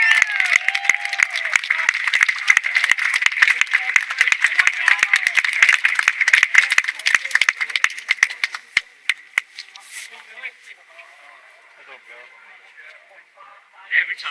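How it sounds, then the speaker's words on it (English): An audience gives a round of applause for a guest at a public speaking event, dense clapping that fills the first half and then thins out to scattered claps, with voices around it. "Please give an absolute legend, an absolute round of applause"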